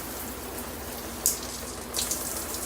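Water sprays steadily from an AquaCare high-pressure eight-mode handheld shower head in a bathroom corner, a continuous close hiss with a couple of brief splashy spikes.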